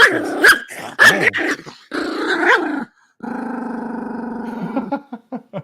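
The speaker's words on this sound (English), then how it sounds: "If I pick her up though, she'll growl" A tiny three-year-old teacup poodle growls close up in bursts, then holds a long rumbling snarl and finishes with a few short sharp yips.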